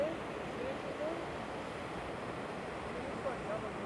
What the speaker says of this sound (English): Man, the waves look going off right now.